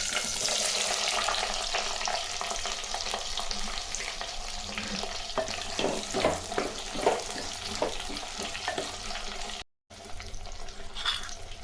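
Cut eggplant sizzles and spatters steadily in hot oil in a pan for a Tamil tamarind gravy, a dense, continuous frying hiss with occasional stirring clicks and scrapes, close and loud throughout.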